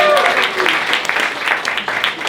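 Comedy show audience applauding and cheering for a volunteer named Zane, a dense steady wash of clapping lasting a couple of seconds with some crowd voices mixed in.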